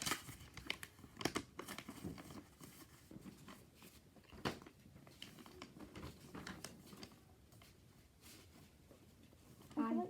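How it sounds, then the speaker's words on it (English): Sheets of paper being folded and creased into a ninja paper plane, with continuous close crinkling and rustling and a few sharper crease snaps, heard under a speaking voice. "You're going to fold down perfectly right in the middle of the X."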